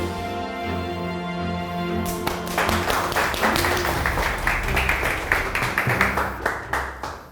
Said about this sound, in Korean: 우수 판매왕 김성현 씨. 박수